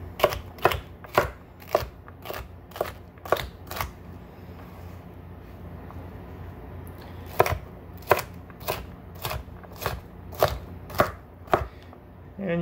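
A knife chops a pepper into julienne on a cutting board in quick, sharp, close taps. The taps come in bursts, with a short pause in the middle.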